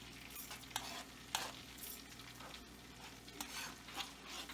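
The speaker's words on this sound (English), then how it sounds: "we're just going to move this around to get the garlic kind of toasting here" Garlic toasting and being stirred in a pan for a keto garlic parmesan chicken dish, giving a steady sizzle with a few louder scraping stir strokes, no talking.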